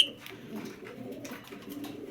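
A racer pigeon coos softly in a few low, throaty pulses, close by but faint, with a brief chirp at the start and no talking.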